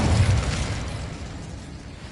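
Blast of the Incendio fire spell in Hogwarts Legacy, a single loud, deep whooshing burst that rolls out and fades over about two seconds.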